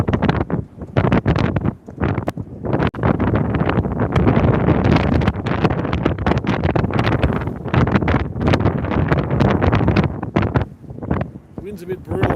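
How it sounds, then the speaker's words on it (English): Strong wind buffets the microphone on the open deck of the Spirit of Tasmania ferry, a loud, continuous roaring rumble with gusty bursts throughout, close and harsh. "Wind's a bit brutal on this side."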